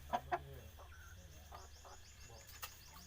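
A fighting cock with a swollen, injured leg gives a few short, faint clucks, with a couple of brief calls near the start and more scattered later over a quiet, low background hum.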